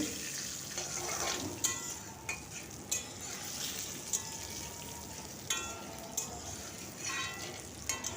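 Mustard seeds and crumbled bori frying in oil for lau shukto: a quiet, steady sizzle with sharp spatters and crackles popping out every second or so.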